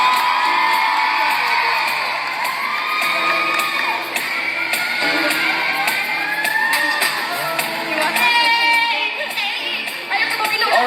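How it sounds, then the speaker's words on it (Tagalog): A crowd at a Filipino fiesta in Florida whoops and cheers loudly, with excited shouts and voices layered over music, sustained for several seconds. "Palakpak!"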